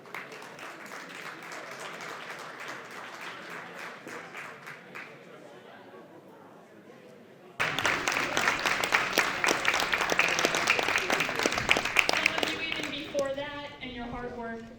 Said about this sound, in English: One more round of applause for all of our teams, please.